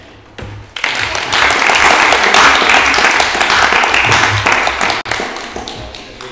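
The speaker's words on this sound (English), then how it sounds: "Can we give a round of applause?" A round of applause at a town council meeting, many hands clapping loudly and steadily for several seconds before tapering off, with faint talk around it.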